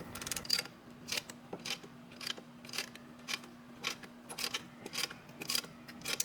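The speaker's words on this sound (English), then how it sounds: "Just put a C-clamp in here with the old brake pad and just push this piston in all the way." A C-clamp is cranked to push the brake caliper piston back on a Hyundai Santa Fe, producing faint, regular, close ratcheting clicks in a steady rhythm over a low hum.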